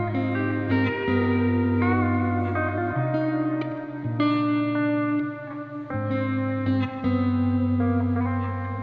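A washed-out vocal sample through FL Studio's Fruity Reverb with wetness turned fully up, sustained tones blending into a dense wet tail, steady and moderately loud, with no speech.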